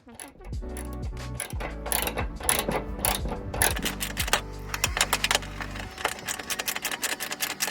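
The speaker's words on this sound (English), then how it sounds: "Right now he's tightening up the two bottom bolts for the lower valence" Ratchet tightening the two bottom bolts, about 10 mm, on the lower valence of a BMW E28 during a US-to-Euro bumper conversion, giving close rapid clicking bursts and metallic clanks in irregular runs, with no talking.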